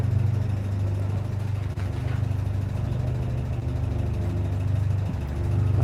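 A car engine rumbles steadily outside, a low continuous drone that holds for the whole stretch and swells slightly near the end, with no talk over it.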